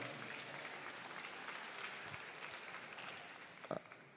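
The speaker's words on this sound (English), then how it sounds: "Give him a round of applause." An audience at a civil rights conference gives a round of applause, a steady, fairly distant clapping that continues evenly, with one brief sharper burst near the end.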